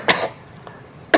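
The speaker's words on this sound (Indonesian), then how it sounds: "maaf teman batuk." Two sharp, nearby coughs from one person open and close a short moment. Between them there is only a faint throat sound over quiet room tone.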